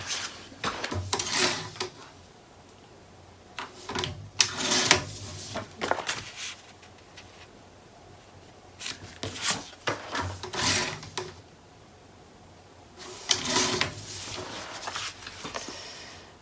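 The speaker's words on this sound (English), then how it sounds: "I'm gonna go ahead and trim this down." Paper cover for a scrapbook album being trimmed on a cutter, several separate bursts of sliding, rasping cuts and scraping paper with quiet pauses between them, close and fairly soft with no talking.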